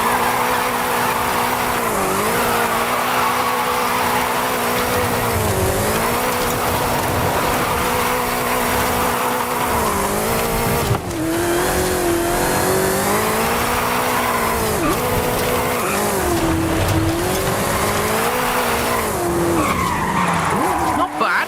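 A 2015 Ford Mustang GT races downhill in Forza Horizon 5, its loud engine droning continuously with rising and falling pitch as the tires squeal and skid through corners.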